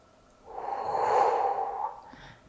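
A single deep breath during a yoga strap stretch, one long audible exhale through the nose that swells and fades over about two seconds, close and alone.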